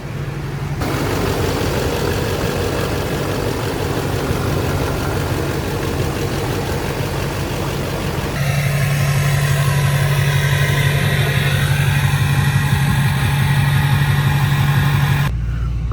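A deleted LBZ Duramax diesel truck engine idles through a 5-inch Yikatoo exhaust, a steady close rumble with a clattering diesel knock that grows louder and deeper partway through, with no voices.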